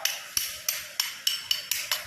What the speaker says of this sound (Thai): ทำการเอาค้อน ต่อหูล็อกเข้าไปนะครับ